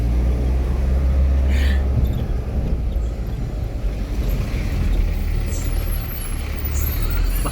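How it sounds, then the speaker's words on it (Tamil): Bus arriving on a forest road in a reserved forest area near Kodaikanal, a loud low engine rumble with a brief hiss of air brakes, heard close under wind noise. "பஸ் வந்துருச்சு."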